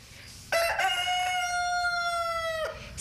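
A rooster crows once in a NyQuil commercial, a loud, close, sustained cock-a-doodle-doo of about two seconds with a sharp rising start and a gently falling tail, over faint background noise.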